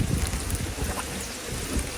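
Gusty wind buffets outdoors, a rough, broadband rush with uneven low thumps, continuous and fairly loud throughout.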